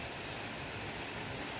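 Strong wind gusting through heavy rain on a cold, rainy morning in Taiwan, a steady dense roar of rushing air and water filling the whole clip without pause, with no talking.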